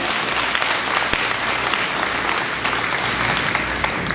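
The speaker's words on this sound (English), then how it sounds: "Let's give them another round of applause." A large crowd at a school district opening ceremony gives school board members a round of applause. The clapping is dense, even and continuous, filling the whole stretch without pause.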